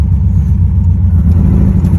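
Karmann Ghia driving with a steady, loud, low engine drone and road rumble heard from inside the cabin, even and continuous, with no voices.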